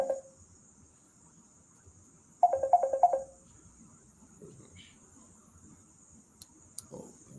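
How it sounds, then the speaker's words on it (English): A phone ringtone from an incoming call trills in a short burst of rapid repeated chirps, fairly close, during an online meeting, with faint background noise and a few brief clicks before and after. "somebody calling your phone."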